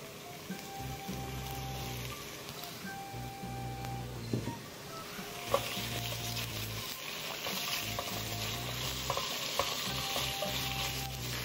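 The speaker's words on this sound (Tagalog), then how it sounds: "And then, isa-stir fry lang natin. And then, ngayon, mag-a-add tayo ng ating pork." Pork stir-fries in hot oil in a pan, a steady close sizzle with intermittent stirring scrapes and clicks running throughout without talking.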